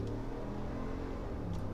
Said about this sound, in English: Oh, I love the sound of a smooth V8.